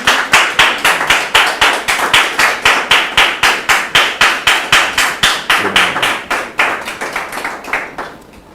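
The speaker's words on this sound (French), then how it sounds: "On la reçoit sous vos applaudissements." A television studio audience welcomes a guest with loud, steady rhythmic clapping in unison, about three sharp claps per second, that gradually loosens and fades at the end; no talking over it.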